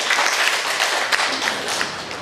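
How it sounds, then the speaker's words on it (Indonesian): Hands clap for officials at an appellate religious court ceremony in Jayapura, a short, fairly close burst of applause from an audience without talk. "Tepuk tangan untuk semua."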